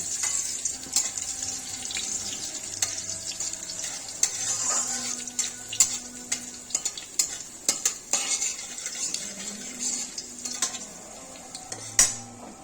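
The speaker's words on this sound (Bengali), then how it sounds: "একটু 2-4 কোয়া রসুন থেঁচো করে দিয়ে দিলাম" Black cumin and crushed garlic fry in a pan with a steady, soft sizzle while a utensil stirs and scrapes, clinking against the metal now and then, close and alone.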